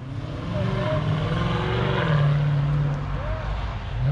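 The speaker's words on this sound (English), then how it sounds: "That's a 392 here. It gets all bassy when it shifts." A car with a 392 engine and a Hellcat-style hood revs and shifts as it leaves a Cars and Coffee meet in Knightdale. A deep, steady engine rumble drones throughout, swelling and dipping with the gear changes, with crowd voices mixed in.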